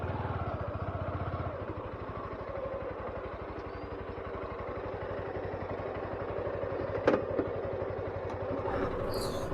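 A motorcycle engine drones steadily throughout on a ride to Seethar Kundu viewpoint in Nelliyampathy, loud and close, with a brief clattering knock partway through.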